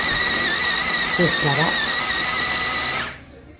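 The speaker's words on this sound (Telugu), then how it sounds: "ఇప్పుడు 1 ఉల్లిపాయ నేను చాపర్లో వేసి పీల్ చేస్తాను" An onion spins in a kitchen chopper, which makes a steady, tonal motor whine with a short vocal sound over it partway through. The whine cuts off sharply just before the end.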